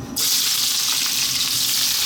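Loud, steady sizzle of onions hitting hot sunflower oil in a wok over very high heat, a bright hiss that starts abruptly and holds without letting up.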